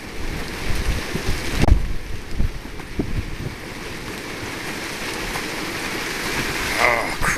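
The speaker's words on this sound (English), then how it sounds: "it's cold rain hitting me" Cold rain driven by wind patters steadily outdoors while people wait on a tornado, a dense hiss with gusty wind buffeting the microphone and a few brief knocks early on.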